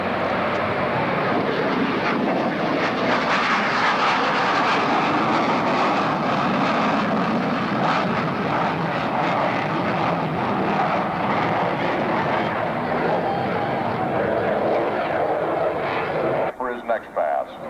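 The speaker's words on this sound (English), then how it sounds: "Kind of fun to come to this air show and see the Phantom, and we're going to find the meaning of the word loud." A loud, sustained roar from an F-4 Phantom jet passing at a 1995 London, Ontario air show fills the whole stretch, steady and broadband before cutting off abruptly near the end.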